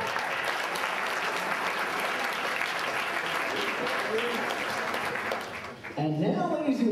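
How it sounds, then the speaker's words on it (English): Wedding guests give a sustained round of applause, dense and full, dipping briefly near the end before a voice speaks over renewed clapping. "Let's give him another round of applause."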